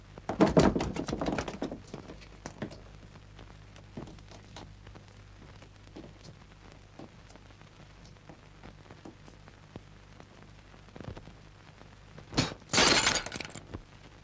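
A sharp crash of a shattering mirror at the start, followed by scattered tinkling pieces and a second bright burst of breaking glass near the end.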